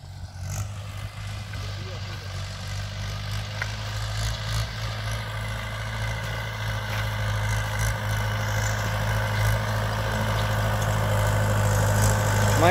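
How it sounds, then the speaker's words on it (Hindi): A Mahindra 575 DI tractor engine runs steadily on a farm field before mustard sowing, a deep, constant diesel throb that grows slightly louder over time, with people talking over it. "महिंद्रा का 575 ये है।"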